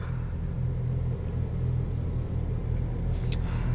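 A 2018 Audi S4 Premium Plus cruises along, its engine a low, steady rumble mixed with road drone heard from inside the cabin, with no talking and a brief higher sound near the end.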